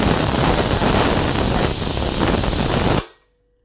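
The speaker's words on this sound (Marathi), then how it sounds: "4-5 शिट्ट्या घेणार आहे मी कुकरला" A pressure cooker cooking horse gram usal lets out steam in one loud, continuous hissing blast about three seconds long, close by, that cuts off abruptly.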